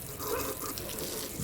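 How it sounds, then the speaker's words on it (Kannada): Water running steadily into a bucket as shampoo is mixed in, a continuous soft rushing and splashing that stays fairly quiet and even throughout, with no voices. "ಇವಾಗ ಶಾಂಪೂ ನೀರು ಬಕೆಟಿಗೆಲ್ಲ ಕಲ್ಸ್ಕೊಂಬರ್ತೀನಿ ತಡೀರಿ."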